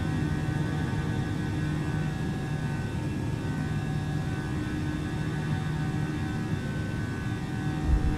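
Airbus A320neo engines in Microsoft Flight Simulator during the climb after takeoff from Los Cabos, a steady, loud droning roar with a tonal hum, continuous and unchanging throughout with no voices.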